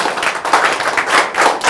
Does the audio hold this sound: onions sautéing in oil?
no